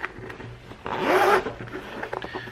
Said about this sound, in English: when you zip it up, it's got this flap that protects it from